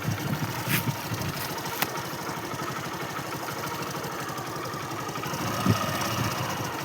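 A vehicle engine runs steadily on a drive out to a garden, a constant mid-pitched throbbing hum with a brief bump or two, close and continuous with no talk over it.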